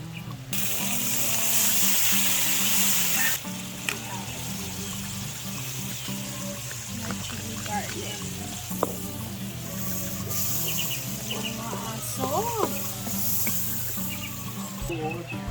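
Onions, chili and garlic fry in a pan with a continuous close sizzle and crackle, with faint clinks and background sounds mixed in and no clear talk.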